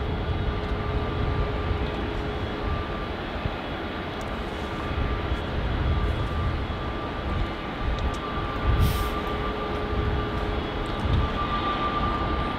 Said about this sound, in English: It looks like we're going to get nice and close to this Jetstar A321.